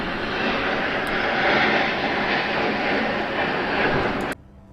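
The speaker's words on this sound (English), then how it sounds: "a helicopter flew over my apartment, like pretty low down" A loud, roaring helicopter passes low overhead an apartment, its broad engine noise holding steady before cutting off abruptly near the end.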